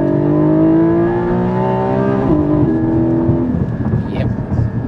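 A 2021 Porsche Cayman GT4 with a PDK gearbox revs hard, its engine note climbing steadily to the rev limiter and bouncing off it, then dropping away into rumbling road and wind noise.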